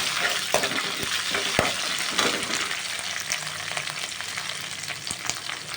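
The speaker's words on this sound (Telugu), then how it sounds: "తాలింపు గింజలు వేగిపోయాయి. ఇవి కొంచెం వేగాక ఉల్లిపాయ, పచ్చిమిరపకాయ కూడా వేగిపోయింది" Tempering seeds with chopped onion and green chilli frying in a hot pan, a steady dense sizzle with occasional stirring scrapes and small pops throughout.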